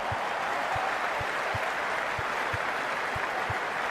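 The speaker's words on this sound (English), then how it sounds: "There's a buzz, a real buzz coming from the stands" Crowd in the stands at a cricket match in a video game, a steady broad hiss of buzzing and applause with soft regular low thumps throughout.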